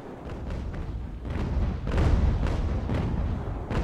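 Sailing-ship cannon fire in Ultimate Admiral: Age of Sail, heard as a continuous rumbling barrage of overlapping distant booms and thuds forming a dense, steady roar throughout.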